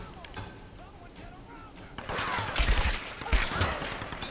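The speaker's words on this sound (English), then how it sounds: "Who's shooting me?" Gunfire in Tomb Raider Definitive Edition, scattered shots early, then a burst of heavy rapid fire and booming impacts from midway on, loud and close, with a voice talking over it.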